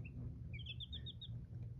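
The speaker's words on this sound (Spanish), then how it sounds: "Nuestros 5 pollitos de raza pavipollo." Faint high-pitched peeping from five young pavipollo chicks, a quick run of short chirps over a soft low background hum.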